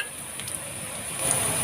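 Fish roe frying in hot oil with black cumin seeds, a steady close hiss and sizzle that swells slightly toward the end, with no voices.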